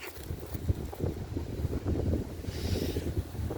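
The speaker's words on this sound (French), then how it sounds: "il fait du vent, il fait froid" Cold evening wind buffets the microphone outdoors, rumbling low gusts rising and falling continuously with a hissy whoosh, loud and close with no voices.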